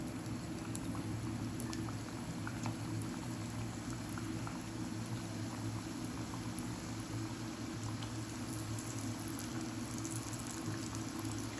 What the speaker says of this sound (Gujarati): આપણે એક ભાખરવડી આપણે એમાં મૂકીને